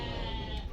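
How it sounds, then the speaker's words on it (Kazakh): At the Kyzylorda livestock market a goat lets out a short, brief bleat amid a steady crowd hum. "Ешкілер."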